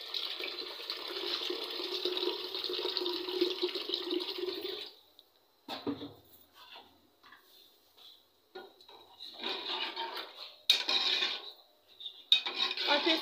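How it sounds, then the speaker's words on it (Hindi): About three glasses of water pour into a pot of soaked mixed dal. A steady rushing pour gives way to shorter splashy bursts broken by quiet gaps, heard close and alone. "तकरीबन 3 गिलास हम इसमें पानी डालेंगे।"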